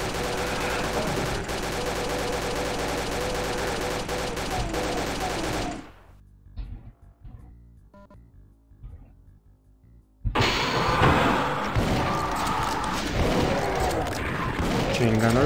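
Rapid bursts of chaingunner fire from Doom II enemies, loud and dense, roaring for several seconds, dropping to near silence for a few seconds, then returning at full volume; no speech over it.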